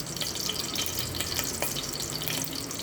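Whole cinnamon, cloves and cardamom fry in hot oil for chicken curry, a steady, dense crackling sizzle with no pauses, close and even in level.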